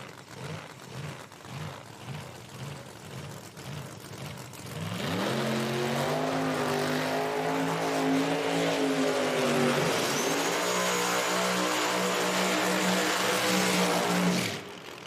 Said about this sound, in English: And the burnouts begin.